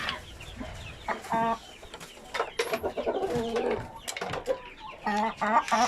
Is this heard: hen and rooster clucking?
yes